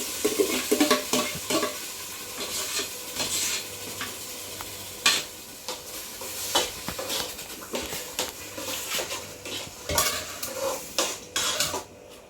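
A spoon stirs blended fruit and a little brown sugar in a cooking pot, giving soft scraping and sloshing strokes with occasional clinks against the metal, close by and fairly quiet, with no talking.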